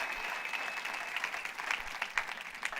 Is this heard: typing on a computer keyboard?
no